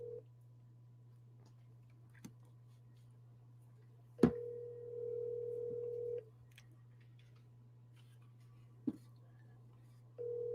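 An outgoing phone call rings unanswered. Two long ring tones, each about two seconds, are separated by a gap over a steady low line hum, with a few faint clicks.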